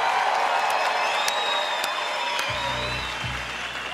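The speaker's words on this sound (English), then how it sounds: "we'd like to get another massive round of applause for all the amazing musicians who've shared the stage today" Big outdoor concert crowd at the Sydney Opera House Forecourt applauds and cheers, with dense sustained clapping, scattered whistles and whoops, and a low musical drone entering partway through.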